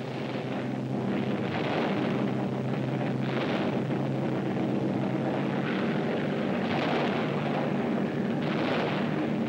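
A dense, continuous roar of aircraft engines fills the scene during an air battle of German fighters attacking American bombers, with swelling surges and muffled bursts but no voices.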